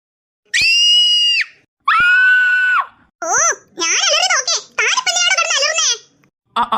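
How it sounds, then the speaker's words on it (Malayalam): Sudden loud screams from two people in a Malayalam comedy drama scene, one long shriek followed by a second, then frantic high-pitched wailing and squealing that rises and falls for several seconds, close and loud. "താൻ പെട്ടെന്ന് അലർന്ന് കേട്ടപ്പം ഞാനും അറിയാണ്ട് അലറി പോയതാ"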